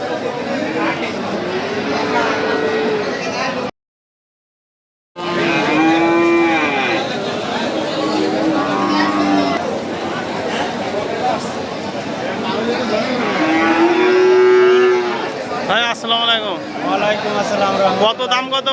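Several Friesian and Sahiwal bulls moo repeatedly amid crowd chatter and voices at a cattle market, loud and close, with a brief silent gap early on.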